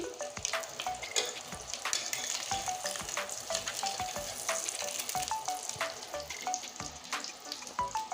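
An egg coated with salt and turmeric fries in oil, giving a close, continuous crackling sizzle with dense spitting pops throughout.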